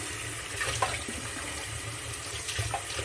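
Cold water running from a tap, a moderate, continuous splashing rush with small gurgling fluctuations, close by and without speech.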